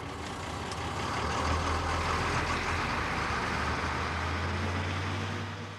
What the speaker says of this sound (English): this lorry driver finished his break and set off up the Mount Eagle Road